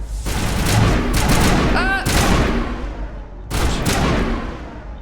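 Gunfire in the video game Mass Effect, loud bursts of rapid shots and blasts with short gaps between them and some voice underneath.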